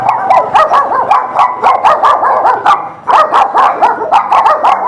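Several small dogs yapping in rapid overlapping barks and yips on a Bangkok neighborhood street, close and loud, in quick bursts with brief pauses.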